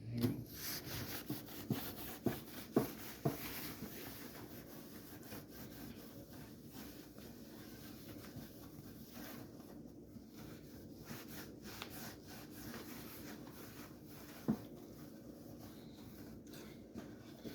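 Gritty abrasive scrubbed back and forth over a Ludwig gold sparkle bass drum shell to take out scratches, a close, steady rasping rub with a few sharper knocks near the start and one around midway, no talking.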